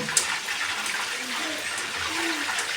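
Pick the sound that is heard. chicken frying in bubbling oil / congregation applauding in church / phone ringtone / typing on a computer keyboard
chicken frying in bubbling oil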